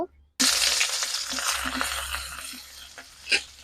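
Chopped onions drop into a hot pan with cardamom and fry, a sudden loud sizzle that settles into steady crackling and spitting, with a few soft stirring knocks near the end.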